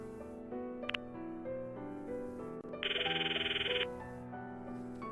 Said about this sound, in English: Once I hang up, I try calling Christian's cell phone once more, but she won't answer